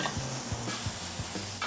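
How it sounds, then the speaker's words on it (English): Steak meat sizzles on a hot grill, with a steady hiss and intermittent scraping and stirring clatters from a spatula close by. "I like the sound of that sizzle."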